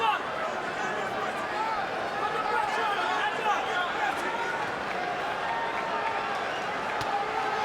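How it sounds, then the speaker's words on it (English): Low, steady murmur of a boxing arena crowd fills the space, a diffuse buzz of many voices with scattered claps and shouts, sitting faintly behind a commentator's talk. "the crowd, you can hear the buzz"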